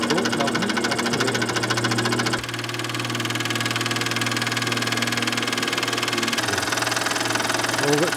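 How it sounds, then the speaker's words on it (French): A small model steam engine runs with a steady mechanical chugging as pressure builds in its boiler and the wheel turns, continuous and close, with a brief dip in tone partway through. "la pression réaugmente dans la cuve, donc la roue va tourner"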